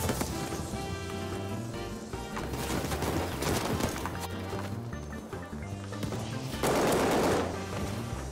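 Rapid rifle fire from an NZ41 in a shooting video game crackles in dense bursts throughout, loud and continuous with brief lulls, and no voice over it.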